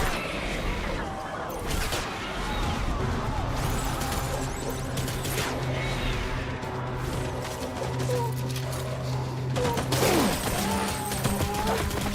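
Scattered gunfire crackles through a video game firefight in a rescue mission, with bursts of shots, mechanical clatter and a crash near the end, under a steady background hum and shouted voices.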